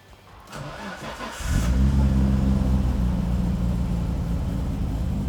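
A 1990 Nissan R32 Skyline cranks briefly and fires up at about a second and a half, then settles into a loud, steady, rumbling run close by, with no talking.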